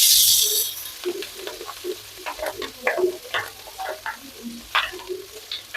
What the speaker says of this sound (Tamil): பாத்தீங்கன்னா வெங்காயம் ஒரு பாதி வதங்கினதுக்கு அப்புறம் நம்ம கருவேப்பிலை கொத்தமல்லி சேர்த்துக்கலாம்.